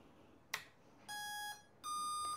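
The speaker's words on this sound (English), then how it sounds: "The motor emits 2 long beeps, meaning the unlocking is successful." Two long electronic beeps from a motor controller, the second slightly higher, after a short click, clear against a quiet background.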